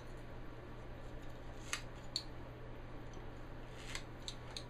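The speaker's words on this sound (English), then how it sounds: "these are some safety scissors, because we've got to cut that cortex padding" Safety scissors snip through cast padding during a cast removal, a few sparse, crisp cuts at close range over a low steady hum, with no speech.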